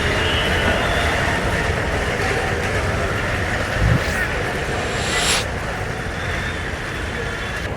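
Train rumble at Kamalapur railway station in Dhaka, a steady loud roar with a brief squeal and rising hiss midway, busy station noise throughout.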